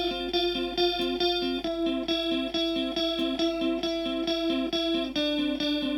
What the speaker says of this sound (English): So let's add a big delay.